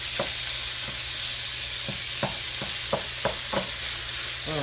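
Ground meat for quesadillas sizzles steadily in a pan over a stovetop flame, with a run of sharp spoon scrapes and stirring clicks spaced irregularly through the frying hiss.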